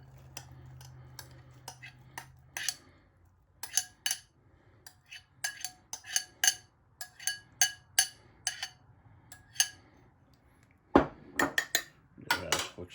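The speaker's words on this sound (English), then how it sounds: "Give that a quick stir as well." A spoon scrapes and clinks irregularly against a pot of chili with beans, tomatoes, tomato soup and chopped green peppers, the taps sharp and close, louder clanks near the end.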